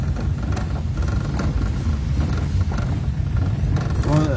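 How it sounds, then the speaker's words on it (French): A Citroën BX 14 RE engine runs at a steady idle with the choke partly on, a continuous low rumble close by throughout, with a brief higher whine near the end. "le starter, je peux pas le couper entièrement, je pense qu'il faut régler un peu le carbu"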